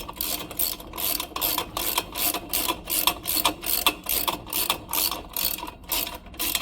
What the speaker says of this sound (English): Put the screw back in place, and then we're going to go ahead and tighten.